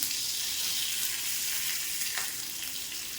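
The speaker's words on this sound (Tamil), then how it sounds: "இதை கொஞ்சம் இப்படி வறுத்துடலாம்" Curry leaves and fennel seeds sizzle and crackle steadily in hot oil, a close, bright frying hiss with a faint stir partway through and no voices.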